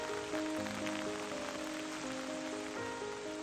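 Rain falls in a steady, even hiss on a surface, with soft sustained musical tones underneath, continuous throughout.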